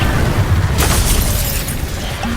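Incendio fire spell cast in the Hogwarts Legacy video game: a loud, sudden fiery burst with a bright whooshing blast, sitting over a continuous low rumble that gradually eases off.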